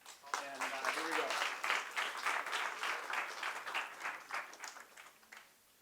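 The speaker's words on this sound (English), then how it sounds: "give Tony Franco a big round of applause" An audience at a critique night bursts into steady applause, a dense wash of many hands clapping that holds for several seconds before tapering off, with a voice briefly audible underneath at the start.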